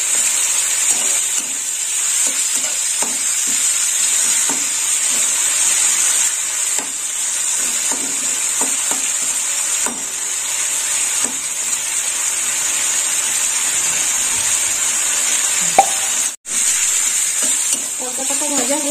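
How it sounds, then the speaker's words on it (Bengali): Palta leaves frying in hot oil while being stirred, a loud continuous sizzle with intermittent scraping and stirring clicks close up, steady throughout, with no talk. "পলতা পাতা ভাজা হয়ে গেছে, এবার তুলে নেব।"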